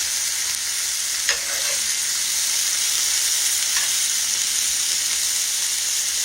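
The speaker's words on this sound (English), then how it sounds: "these onions are tendering up over here" Onions sizzle in a pan with a steady, bright, hissing fry that runs throughout, broken by a couple of faint taps from a utensil.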